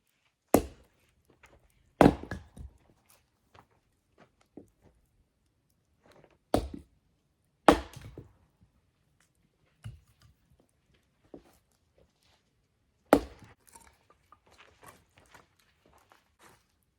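Firewood being chopped at a campsite: several sharp, loud single strikes spaced a few seconds apart, each followed by faint clatter of wood, with quiet gaps between.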